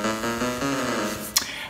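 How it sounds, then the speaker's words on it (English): A DRC synthesizer app produces short electronic synth tones, a rising sequence of bright buzzy notes followed by a quick sweeping zap near the end, heard alone without talk. "But a synthesizer is more for making electronic type sounds like this."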